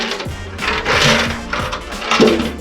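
Loose bolts rattle and clatter inside a BMW R100 petrol tank that is full of petrol, with irregular metallic knocks over a rushing, sloshing swish at close range.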